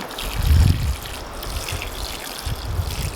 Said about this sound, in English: Good watering in.